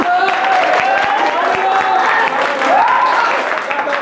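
A crowd at an institute batch-completion gathering applauds after a sung song, a steady spread of clapping with cheering and whistle-like calls over it, close and loud.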